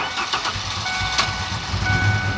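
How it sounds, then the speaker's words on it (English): Car engine starting up after a spray-in cleaning additive, a rough sputtering crank that settles into an uneven idle, close and fairly loud, with no voices. "Time for the smoke show. Let's start her up."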